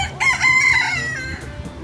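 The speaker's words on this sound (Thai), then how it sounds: "อน้องกลัวไก่ขันเนาะ" A rooster gives one loud, close crow: a rising then sustained call that trails off in under two seconds.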